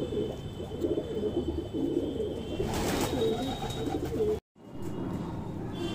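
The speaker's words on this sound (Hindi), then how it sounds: "भाई कबूतर है सफेद टाट का," A white Madrasi pigeon coos close by in soft repeated low throaty calls, steady over faint background noise, with a brief dropout near the end.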